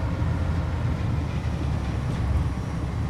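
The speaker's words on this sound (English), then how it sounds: "Guessing there's a train from up ahead." A train rumbles on the Mittenwaldbahn in Train Sim World, a steady low, noisy roar that holds at the same level throughout with no voices.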